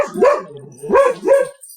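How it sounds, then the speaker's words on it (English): A dog barks at someone walking past the front door of a home, giving three or four loud, close woofs in two bursts separated by a short pause. "Did you hear that? That was my dog."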